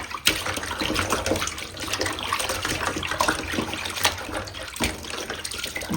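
Tap water runs and splashes steadily while rui fish is rinsed in a kitchen, with irregular sloshing and a few sharper clatters, close and fairly loud.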